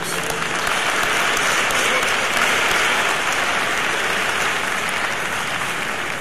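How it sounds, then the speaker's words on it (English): A large crowd of graduates at the 2018 Lackawanna College commencement bursts into sustained, even applause, a thick continuous roar of clapping with no pause throughout. "You need to give yourself a round of applause because you succeeded to sitting in these chairs."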